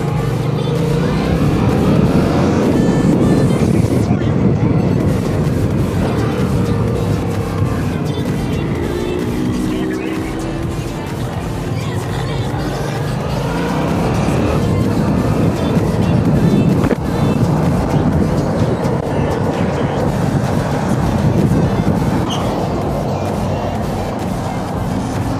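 Yamaha MT-07 motorcycle engine on a test ride, a steady loud drone with wind rush running continuously throughout, rising slightly in spots, with no clear talk over it.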